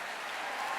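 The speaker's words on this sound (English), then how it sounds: "the men in the audience should stand up and applaud" Audience applause at a talk on women in the post-Trump era, a brief, dense burst of many hands clapping, loud and continuous.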